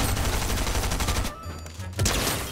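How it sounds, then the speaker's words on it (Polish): Rapid gunfire aimed at the player in Fortnite, loud bursts of crackling shots that break off briefly and then resume with another sharp volley. "Tutaj gościu mi strzela."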